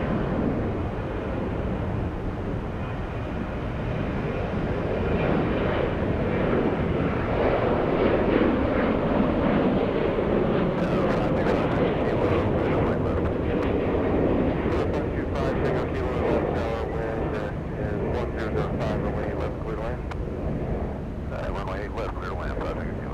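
Jet airliner taking off at Atlanta Hartsfield-Jackson International Airport, a broad steady engine roar that swells and holds throughout, with voices talking over it in the later part.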